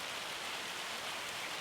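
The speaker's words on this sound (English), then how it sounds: "It's hailing." Hail falling in the Farming Simulator 25 video game, a steady dense hiss of pelting ice that holds constant throughout with no talk over it.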